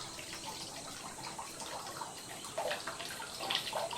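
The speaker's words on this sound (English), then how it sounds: "Like the water pouring in." Water pours steadily in the video game Danceploration, a hot, steamy pool, as a soft continuous hiss and splash with faint bubbly gurgles rising slightly toward the end, fairly quiet and alone.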